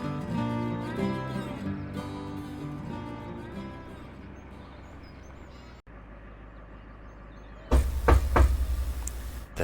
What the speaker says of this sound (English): There's a sharp knock on the door and the young man springs away.